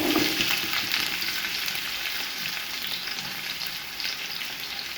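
Chopped onions fry in hot oil with bay leaf, cumin, cloves and black peppercorns for matar aloo pulao, giving a loud, constant, close sizzle that holds steady throughout.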